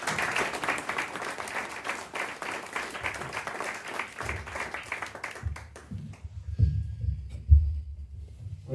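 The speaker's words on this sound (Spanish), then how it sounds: "tanto a Andreu como a Manolo, os pido un aplauso para ellos." People at a book presentation applaud with fairly soft clapping for about five seconds before it dies away, leaving low thumps and room noise as someone steps up to the microphone.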